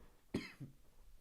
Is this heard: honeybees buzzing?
no